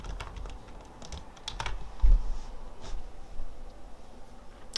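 Soft clicks of someone typing on a computer keyboard to note down a number, scattered and fairly quiet over a low room hum.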